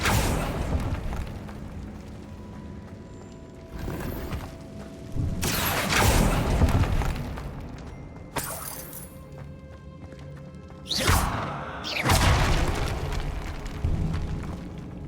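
Spell blasts from Bombarda and Confringo in the Hogwarts Legacy video game: several loud booming bursts erupt in succession over a low ambient game backdrop, each a sharp broadband impact with a rumbling tail.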